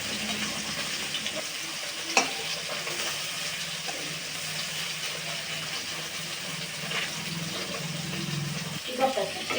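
Food sizzling in a frying pan after being turned over, a steady hiss with a few sharp clinks and scrapes, with someone speaking faintly in the background.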